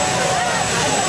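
A jet-powered funny car engine roars at a drag race, a loud, steady, high-pitched turbine whine and rush filling the brief moment.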